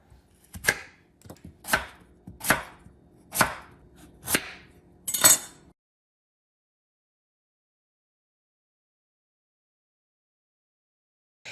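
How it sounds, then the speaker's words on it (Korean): A knife cuts thick slices of radish on a cutting board, making six sharp, evenly spaced chops close up over about five seconds, followed by silence. "무는 300g 정도를 사용할 텐데요. 끝줄때 이렇게 도톰하게 썰어주고요."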